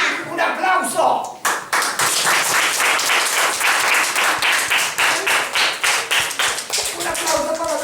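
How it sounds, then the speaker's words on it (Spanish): Applause rings out for a child at a classroom Santa Claus visit, a dense run of many hands clapping in quick rhythm, with voices speaking briefly before and after. "Un aplauso."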